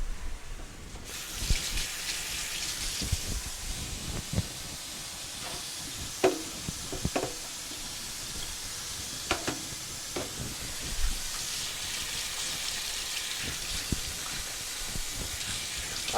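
Italian sausage starting to cook in a pan gives a steady, close hiss and sizzle, with scattered clicks and clatter of kitchen handling over it and no talking.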